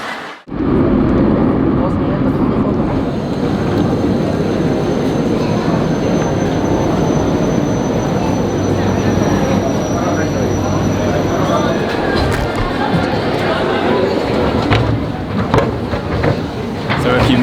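A Caracas metro train runs past, giving a loud, continuous rumble layered with whining tonal hums that hold throughout, with indistinct voices faintly mixed in.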